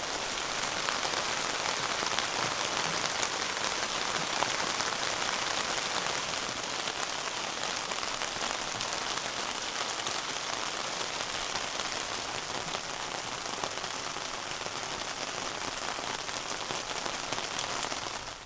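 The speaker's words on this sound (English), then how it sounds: "Now I'd say it's raining." Steady rain patters on a tent during a camping trip in the woods, a dense, even hiss of drops that holds without a break from start to finish, with no talking.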